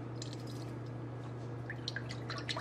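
Liquid is poured from a container and splashes, giving soft, faint, irregular dripping and splattering over a low, steady background hum.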